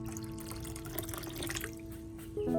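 About a liter of clean water is poured into a nutrient solution for an anthurium plant, a soft, quiet trickle and patter of liquid running steadily, faint and close, with no one talking.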